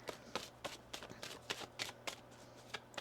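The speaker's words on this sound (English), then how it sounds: "One more shuffle." Tarot cards being shuffled by hand, a quick run of soft, crisp riffling bursts repeating in an even rhythm, close and quiet, with no talk.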